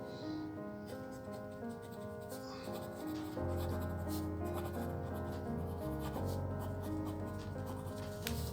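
An Oliver F27 fountain pen with a broad, wet-writing nib scratches softly across paper in short strokes, faint beneath quiet background music.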